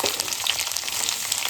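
Mixed vegetables with capsicum, paneer and tomato frying in oil in a kadai, a loud, steady, close crackling sizzle that fills the whole moment with no talking.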